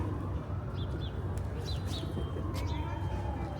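Birds in Ortaköy square in Istanbul, called sparrows, give a few short chirps and coos over a steady, busy outdoor hum.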